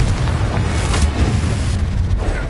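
A Confringo fire spell explodes in Hogwarts Legacy, a loud booming blast that rolls on as a heavy, sustained low rumble with a crackling burst near the start.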